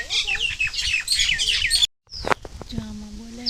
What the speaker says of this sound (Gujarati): જો આમાં બોલે છે પક્ષી.